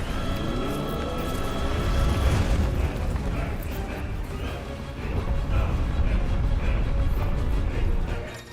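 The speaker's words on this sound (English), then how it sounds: "Hold it to increase explosion size and strength." The Brimstone ability in a video game sets off a loud, sustained explosion that rumbles and roars like an eruption for several seconds, with deep booming bass throughout.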